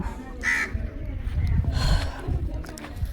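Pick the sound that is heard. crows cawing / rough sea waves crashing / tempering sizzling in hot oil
crows cawing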